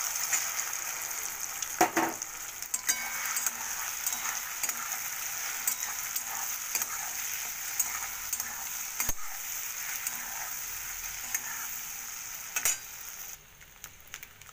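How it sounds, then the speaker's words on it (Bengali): Egg-coated soybean chunks fry in a pan with a steady, close hiss and sizzle, broken now and then by soft clicks and scrapes of stirring. "এবার আমি ডিম ভেঙে মাখিয়ে রাখা সোয়াবিনগুলো ভালো করে ভেজে"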